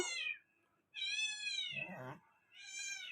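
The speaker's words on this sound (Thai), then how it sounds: "เสียงแมวร้อง" A cat meows loudly three times, drawn-out, wavering cries separated by short pauses, close by with no other sounds.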